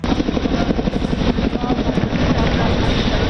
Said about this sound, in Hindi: इस मौके पर अमेरिका से खरीदे गए चिनूक हेलीकॉप्टरों ने भी M777 तोपों को लेकर उड़ान भरी।